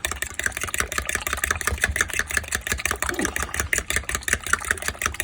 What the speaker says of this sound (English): whisking is kind of moving your fork back and forth and slightly up and down